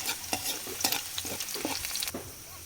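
Chili, onion and garlic sauté in very hot oil for chicken adobo, giving a soft, close sizzle broken by a series of sharp spatula taps and scrapes against the pan. Nobody speaks.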